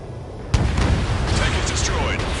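A tank blown up in the jet combat game Ace Combat 7: a sudden heavy boom that rolls into a long sustained rumble with crackling debris, loud and close, with radio chatter and electronic tones over it.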